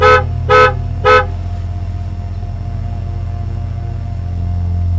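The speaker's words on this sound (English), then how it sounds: "Honk the horn 3 times." A car horn honks three times in quick succession at the start, loud and close, followed by a steady low engine idle with no talking.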